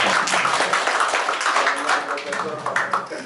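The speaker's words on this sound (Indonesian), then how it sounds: "saya undang Profesor Adi Alikodra, tepuk tangan untuk beliau." Audience applause greets a professor invited to speak at the Borneo Youth Programme 2016 event in Jakarta: dense, steady clapping from a crowd that fills the room for a few seconds without letting up.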